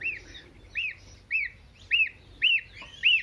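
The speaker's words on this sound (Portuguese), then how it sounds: "Ó, e ele vai ficar piando o dia inteiro, a noite inteira, o ano inteiro, o mês inteiro e pra frente vai." A baby chick on a small farm peeps on and on: six high, clear peeps in an even rhythm about every half second, each a little louder than the last, close and alone against quiet background.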